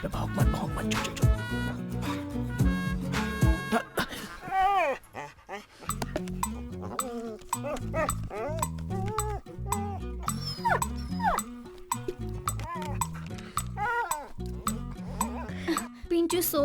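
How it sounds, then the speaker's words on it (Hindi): A dog barks, yips and whimpers indoors in a dubbed South Indian action film scene, close and repeated in irregular bursts, with voices and clinking sounds in between. "अबे भौंक मत, चुप चुप चुप।"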